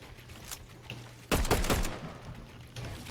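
A short, dense burst of gunfire from the video game Fortnite, with rapid cracks packed together in the middle of the moment over a quiet game background.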